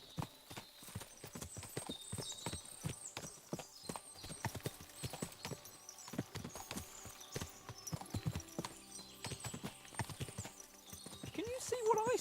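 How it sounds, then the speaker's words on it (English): Horses' hooves clip-clopping in the medieval game Kingdom Come Deliverance 2, many uneven hoofbeats on hard ground with an occasional whinny, fairly quiet, with a voice speaking over them at times. "What a lot of horses!"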